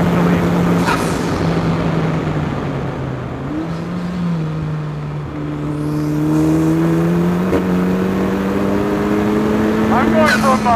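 An Ariel Atom 4 fitted with a Honda Civic Type R engine, heard from the cockpit as the engine note drops and climbs through a downshift from sixth to fourth, loud and close beneath someone talking.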